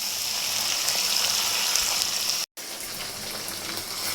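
Masala of ginger garlic paste and cumin paste sizzles hard in a pan for Pangas fish curry, a loud, dense, water-like hiss that continues alone except for a brief dropout midway.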